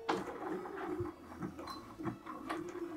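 A sewing machine stitches fabric with a rapid mechanical whir and rhythmic ticking, pausing briefly and restarting several times at close range, alone without talk.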